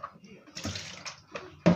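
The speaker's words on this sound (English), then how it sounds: "So right now, this one I'm washing now is the pumpkin leaf." Pumpkin leaves being washed by hand in a basin of clean water, with short bursts of sloshing and splashing that come and go over a couple of seconds, close by and fairly loud.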